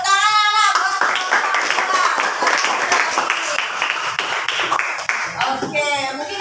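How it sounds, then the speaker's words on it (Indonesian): Schoolchildren in a classroom clap together in a dense, steady burst of applause, close and loud, with voices mixed in at the start and end. "Tepuk tangan anak."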